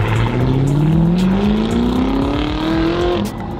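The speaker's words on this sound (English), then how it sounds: "I want to hear the GT take off" A GT sports car takes off hard, its engine note climbing in pitch as it accelerates away, loud and close with a roaring exhaust over outdoor background noise.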